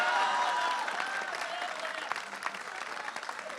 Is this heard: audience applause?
yes